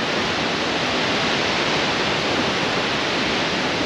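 Rushing water from a waterfall in Lapland roars in a dense, unbroken wash of noise, loud and near, steady from start to finish.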